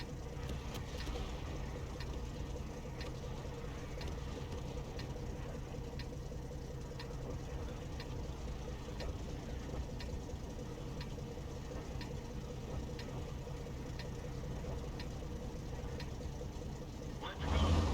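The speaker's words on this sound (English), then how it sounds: "This time round we should have the engine noise." Engine of a Panhard EBR 90 armoured car in the World of Tanks video game, a steady, dense mechanical rumble that drones continuously at even loudness, with a brief louder surge right at the end.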